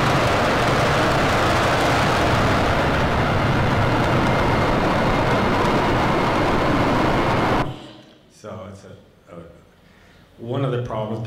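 Underwater recording of a large ocean cargo ship, a loud broadband rumbling drone that fills most of the clip before cutting off, followed by a short stretch of talking.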